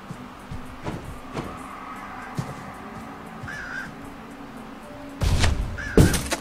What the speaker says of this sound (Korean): 근데 이 까마귀를 이렇게 죽여야 되니까 더 나중에 위험해질 것 같은데.